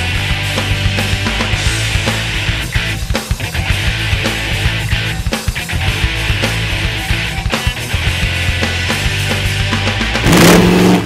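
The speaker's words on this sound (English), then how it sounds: "يصعب توضيح الشعور الذي ينتابك حين تضغط على الزر السحري الكفيل بتدوير المحرك العملاق لهذه الدراجة" A Boss Hoss LS2 motorcycle's big V8 engine runs loud and steady close by, with a rough rumbling idle and rising revs, and a brief louder burst near the end.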